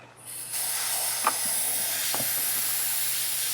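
An empty can of brake cleaner spray sputters out a steady, close hiss that starts after a brief pause and runs on evenly, with a couple of faint clicks or knocks during work on a 2005 Jeep Grand Cherokee CV joint.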